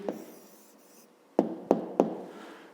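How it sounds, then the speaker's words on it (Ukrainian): Pen writing an answer by hand on paper, giving soft scratching strokes followed by three sharp taps spaced evenly, close and quiet. "Записуємо тоді відповідь."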